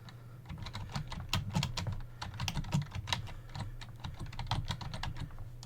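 Steady rapid typing on a computer keyboard as a Linux terminal update command is entered on Ubuntu, dense clicking keystrokes close to the microphone over a low hum, with no voices.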